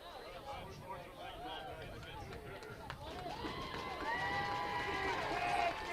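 A football crowd at a high school game between the Warriors and Catoctin cheers and shouts, a broad roar that swells steadily louder over several seconds, with an announcer's voice talking over it.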